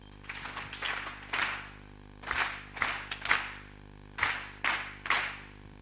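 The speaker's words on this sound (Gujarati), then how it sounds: "3 તાળીઓ દ્વારા વધાવીશું." An audience at a devotional bhakti music program claps in short bursts, bright hand claps that come in several quick clusters at moderate distance, each burst brief and separated by pauses, over a low steady hum and with no talk.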